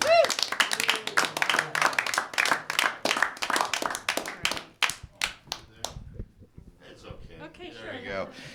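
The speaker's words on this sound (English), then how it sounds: "give it up big and loud for Mean Dave" Comedy club audience claps and cheers for comedian Mean Dave, a burst of sharp close handclaps that tapers off, followed by faint talk and scattered sounds.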